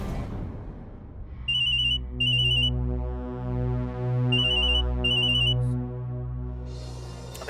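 A phone ringtone plays alone, a repeating electronic melody with bright chiming beeps over a warm synth pattern, clear and close.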